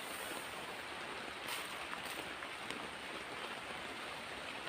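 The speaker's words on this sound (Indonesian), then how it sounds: "Guys, malah ya hujan gitu." Steady rain falls at night on a forest campsite, a faint even hiss of drops spattering on surfaces, continuous and diffuse with occasional louder splashes and no voices.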